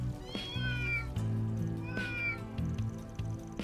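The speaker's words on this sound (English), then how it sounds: "Got a lot of stray cats here in Old Town" Stray cats in Old Town in the video game Trails Through Daybreak meow twice in drawn-out, rising calls over steady game music.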